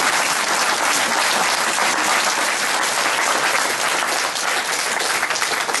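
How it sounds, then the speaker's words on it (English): Dense, continuous applause from an audience at a village action group meeting in Hampsthwaite, loud and even from start to finish. "Come on, let's have a round of applause."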